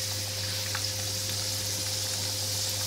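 Beef broth boiling in a pot, a steady dense bubbling and sizzling hiss that stays constant and close throughout, with no talk over it.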